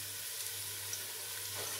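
Chicken dropped into a hot pan of browned onions for chicken pulao, giving a steady, close, moderately quiet sizzle with a low hum beneath, no talking.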